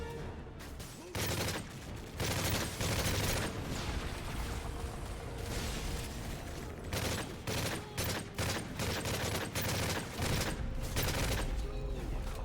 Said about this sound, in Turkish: Ghost Bridge koruma ateşi açın